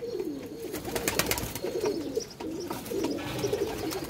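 Pigeons coo in soft, repeated low murmurs, with sharp clicks and rustling close by in the background.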